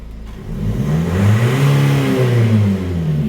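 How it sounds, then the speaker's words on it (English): A Renault Trafic II 1.9 dCi diesel with a loss-of-power fault, its engine pushed to full throttle, revving up strongly and holding a loud, rising mid-pitched roar for a few seconds before easing slightly, no talk. "Start the vehicle and press the gas pedal to full."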